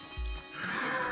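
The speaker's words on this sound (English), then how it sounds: "That is the sound of a feral" Feral zombie in the video game State of Decay 2 letting out a shrill, strained screech that rises and holds for about a second, over a low thump and background game ambience.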